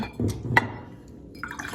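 A watercolor brush swished and rinsed in a jar of water, giving a few soft drips and light glassy taps against the rim, close and quiet with short pauses between.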